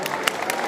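An audience applauds during a Comic Con Q&A in Brussels with a guest: a brief burst of scattered clapping from a crowd, with talking mixed in.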